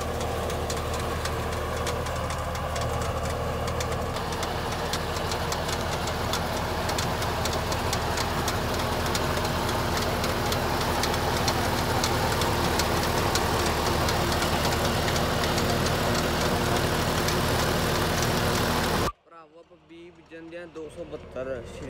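A John Deere 5060E tractor of about 50-60 horsepower drives an 8-foot Gurbaz super seeder at 1600-1700 RPM. It gives a loud, continuous field engine drone with knocking texture and talking over it, then cuts abruptly near the end.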